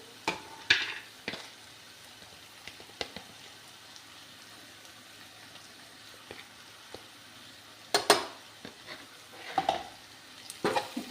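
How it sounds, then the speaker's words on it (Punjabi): Spices such as red chilli and turmeric are stirred into a frying pan while a Punjabi potato and bean curry is cooked, giving a faint steady sizzle broken by scattered scraping and clinking strokes of a spoon against the pan. "ਸਾਰੇ ਮਸਾਲਿਆਂ ਦੀ ਚੰਗੀ ਤਰ੍ਹਾਂ ਕਰ ਦਾਂਗੇ ਮਿਕਸ"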